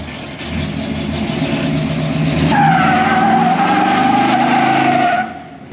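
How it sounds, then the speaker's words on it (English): A project truck does a tire burnout, its engine revving hard and rising as the tires break into a loud, sustained screeching squeal close by, then dropping away at the end. "let's see it burn out"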